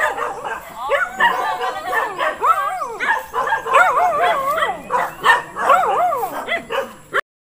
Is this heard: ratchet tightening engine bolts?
no